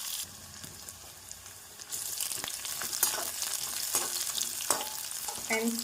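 Hot oil sizzles and crackles steadily, growing louder as curry leaves are added to the pan with chopped onion, with occasional stirring scrapes.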